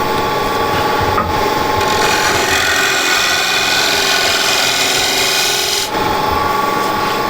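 A spindle gouge cuts into a wooden dish spinning on a lathe, a loud, continuous scraping hiss over the lathe's hum, close and unbroken, with a brief change in tone near the end.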